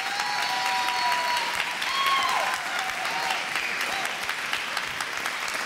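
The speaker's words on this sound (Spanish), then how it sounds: "Aplausos para eso, por favor." Studio audience on a TV show breaks into sustained applause, a bright, even rattle of many hands that keeps a steady level for several seconds with no talking.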